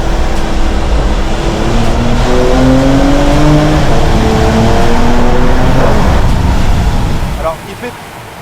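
A tuned Porsche Macan Techart with 450 hp accelerates through a tunnel, its loud engine rising in pitch through several gears with a roaring echo before easing off near the end.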